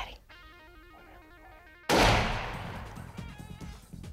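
A single loud rifle shot fired at a buck during a deer hunt on a Texas ranch, cracking sharply and then echoing and fading away after a quiet stretch with soft background noise.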